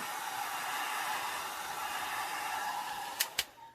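A hair dryer blows steadily to dry an alcohol ink background, a loud close whooshing hiss throughout, ending with two quick clicks as it is switched off.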